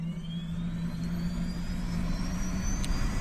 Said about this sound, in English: at this point, we're going to go ahead and start up our engine here.